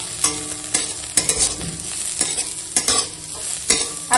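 Radish greens frying in a pan with green chilli, stirred with a steady run of sharp scraping clicks over a soft continuous sizzle, close and fairly loud.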